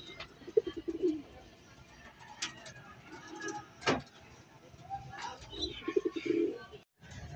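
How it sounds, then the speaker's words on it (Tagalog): Racing pigeons coo softly in a loft during summer training, with a few low burbling calls spread through a quiet, faint background and some scattered knocks and rustles. "Yan mga kaibon oh"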